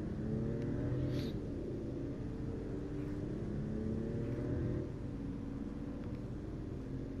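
A car in Final Fantasy XV drives steadily and swings through a U-turn, its engine a constant low hum with mild rises, heard alone without talk.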